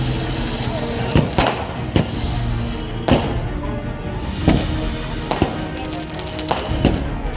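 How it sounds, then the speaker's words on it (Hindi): Fireworks crackle and pop repeatedly as BJP party workers celebrate an election win in Ajmer, sharp bangs recurring every second or so over a busy outdoor crowd rumble with voices. "ऐतिहासिक जीत होने पर अजमेर में बीजेपी कार्यकर्ताओं ने आतिशबाजी की।"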